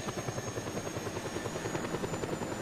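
Rotor thump and engine drone of a helicopter in Just Cause 2, a fast regular beat holding steady and near for a short stretch, alone without voices.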